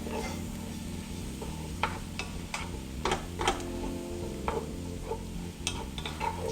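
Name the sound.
onions sizzling while being stirred in pot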